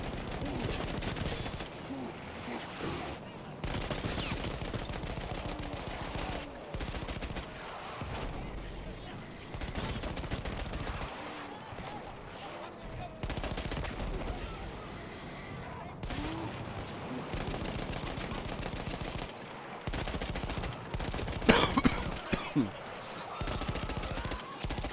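Battlefield 1 gameplay with loud bursts of gunfire and machine-gun rattle recurring across the span, mixed with explosions and a sharp cluster of shots near the end, while a player talks over it.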